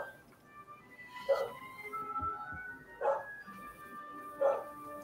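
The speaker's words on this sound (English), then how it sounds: "Allie and Bangle are barking at something" Two dogs bark indoors, three short, fairly distant bursts spaced a couple of seconds apart over a quiet background hum.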